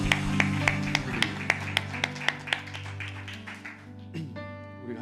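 A church congregation claps in steady unison during a Sunday worship service, sharp regular beats over sustained music and organ-like tones, ending with a lone struck chime.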